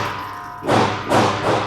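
A Taurus TX22 FRT rifle fires in rapid bursts: three dense, heavy clusters of shots arrive in quick succession, loud and close, with no talking.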